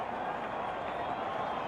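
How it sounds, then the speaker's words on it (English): Cricket crowd at a 1992 World Cup match between Pakistan and India roars steadily after a wicket falls, a broad, distant wash of cheering with no break. "Their supporters in the crowd are delighted."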